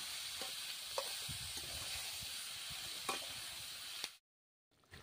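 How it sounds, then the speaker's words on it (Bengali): Bottle gourd stems and snails are sautéed in a pan, giving a steady close sizzling hiss with occasional soft knocks of stirring, then a brief cut to silence before the frying resumes. "সবজিটাকে কষাতে থাকবো।"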